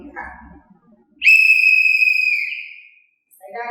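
A sharp, piercing blast from a whistle attached to a boat life jacket, one loud sustained tone of about a second, heard close and alone.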